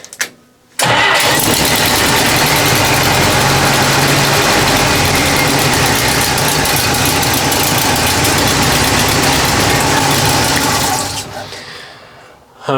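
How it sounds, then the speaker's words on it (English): A Willys Jeep FC-150 engine cranks briefly, catches and settles into a steady, loud, close idle that runs for about ten seconds before it is shut off. "So let's see if she fires up."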